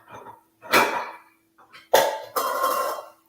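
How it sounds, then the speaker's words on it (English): A small serving bowl being taken out of a kitchen cupboard, with several sharp ceramic clinks and clatters of stacked dishes in separate bursts, close and fairly loud, with no talking. "Just going to get a small bowl so I can illustrate."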